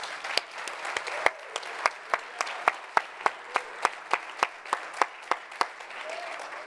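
A church congregation at a Spanish-language service breaks into sustained applause, a steady crowd of hands with several louder, regularly spaced claps standing out near the front throughout.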